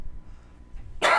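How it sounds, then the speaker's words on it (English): A single close, loud cough bursting out abruptly at the end after a near-quiet stretch. "Sorry for the cough."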